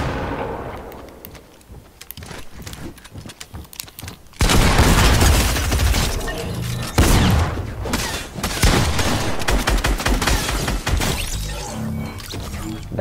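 Gunshots ring out in the video game Fortnite as a dense, loud run of sharp cracks and booms. After a quieter opening, the shots come in rapid bursts one after another.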